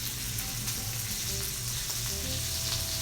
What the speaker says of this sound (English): In this same pan, I'm going to add our sausage.